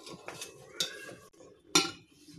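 A pot of pearl millet khichdi is handled on a stove, with several sharp metallic clanks and scrapes of cookware, the loudest near the end, and no voices.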